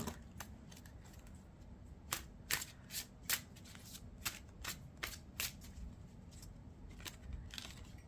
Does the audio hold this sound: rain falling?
no